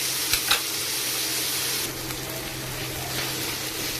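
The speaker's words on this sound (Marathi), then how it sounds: "कांदा, टॅमॅटो, लसूण हे सगळे छान असे भाजून घ्यायचे" Onion, tomato and garlic roasting in a pan, a soft steady sizzle with a couple of sharp utensil knocks near the start, continuing evenly without any talking.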